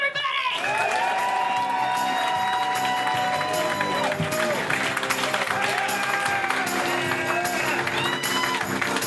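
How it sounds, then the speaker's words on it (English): Live audience applauding and cheering for the hosts, a dense continuous roar of clapping and whoops with some voices mixed in. "please give a big round of applause for our friends, our hosts of CRiiiME, John Shefsky and Slaton, everybody!"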